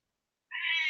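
A house cat lets out a single loud, drawn-out meow close by after a moment of silence.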